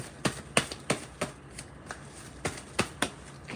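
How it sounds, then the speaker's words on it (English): Tarot cards being shuffled and drawn, a run of crisp papery riffles and flicks arriving in quick irregular bursts, close and clear with no talking. "Can I get 2 more cards, please, Spirit?"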